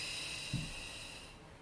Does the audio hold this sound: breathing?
yes